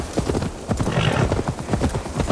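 Horse hooves clip-clopping in Assassin's Creed Valhalla, a loud, close, steady rhythm of hoof falls that carries on without a break through the whole moment.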